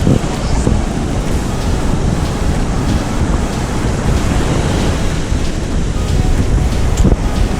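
Strong wind buffets the microphone on an open beach at Umm Al Quwain while waves break and surge continuously, loud and unbroken, with nothing else audible.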